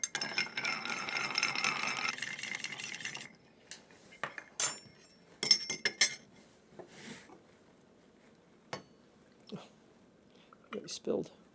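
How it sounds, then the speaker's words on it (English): Ice rattles and clinks into a cocktail mixing glass while a Martinez is prepared, a dense jangling burst for the first few seconds, followed by scattered lighter clicks and knocks of glassware and tools. "And we'll ice the one in our mixing glass."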